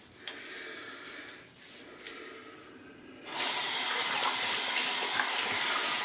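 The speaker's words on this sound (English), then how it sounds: "put a little water on the brush and see" Tap water runs onto a shaving brush during a head shave with a HeadBlade Classic, the flow starting softly then surging into a steady, loud broadband splash from about halfway on, close by with no talk.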